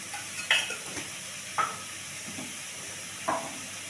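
Tomatoes, garlic and chillies cooking in a pan with curry leaves, producing a soft continuous sizzle with three distinct stirring scrapes spaced a second or so apart, close and moderately quiet with no talking.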